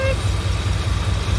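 A 1988 Chevy K2500 truck engine with new spark plugs running steadily, a low even rumble close by, while a voice speaks over it.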